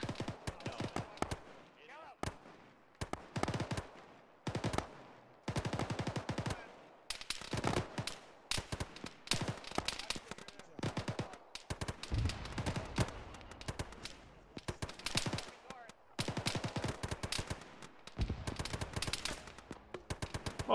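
Dense gunfire in an Arma-style military game session: repeated rifle and machine-gun bursts, some near and sharp, others distant, rattling in irregular volleys over about twenty seconds.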